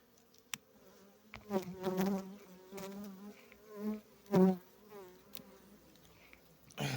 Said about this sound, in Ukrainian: Ось така кількість бджоли на крайній рамки